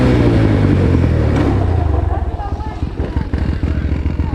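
A motorcycle engine runs steadily and loudly up close, then settles into a rougher, pulsing idle or low-speed putter as the bike eases around on a cool-down loop.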